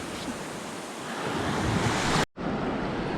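Sea waves break on a beach at Playa de Las Teresitas in Tenerife, a continuous loud roaring wash with heavy wind buffeting the microphone, then a sudden brief dropout before the surf resumes.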